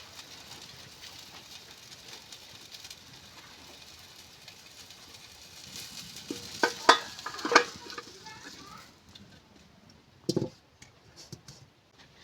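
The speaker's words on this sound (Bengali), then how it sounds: "আমার সয়াবিন ভাজা হয়ে গেছে। এবার আমি ঢেলে নেব।" Soybeans fry in a pan with a faint, steady sizzle, broken by a few sharp scrapes and clinks as a utensil stirs and tips them out.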